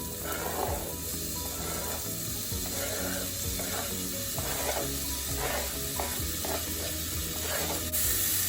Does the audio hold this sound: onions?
yes